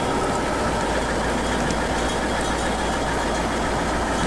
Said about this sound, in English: it kind of sounds rough when it starts up, and a lot of dinging and pinging